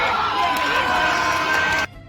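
A movie theater audience at a Minecraft film cheering and shouting together, a dense crowd roar with excited voices that cuts off abruptly near the end.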